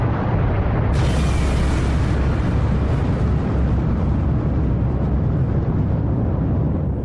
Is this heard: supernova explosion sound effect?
yes